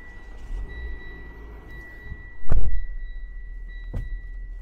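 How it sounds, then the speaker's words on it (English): A 2020 Mitsubishi ASX (MY21) with keyless entry being started: steady electronic chime tones sound first, then the engine cranks with a loud low thump and settles into a quieter idle, heard close with no talking. "I'll just start the car."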